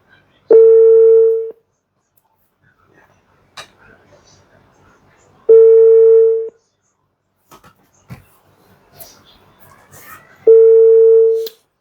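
Telephone dial tone sounding in three separate steady beeps, each about a second long and several seconds apart, while a caller places a call, with faint speech and small noises in between.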